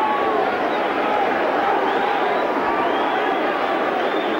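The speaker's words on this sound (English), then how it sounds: "This Detroit crowd loves Thomas Hearns, but they are a critical crowd." A Detroit arena crowd at a boxing match keeps up a steady, dense roar of voices and murmuring throughout, loud and unbroken.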